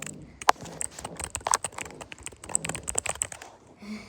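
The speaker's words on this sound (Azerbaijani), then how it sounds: "Klaviatura səsi." Rapid, uneven keystrokes on a computer keyboard, close and fairly loud, with clustered clicks and a heavier tap now and then over about four seconds, no voices.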